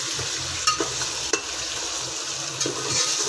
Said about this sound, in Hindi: अब इसको हमने कोई तकरीबन 5 मिनट इसको फ्राई करना है घी में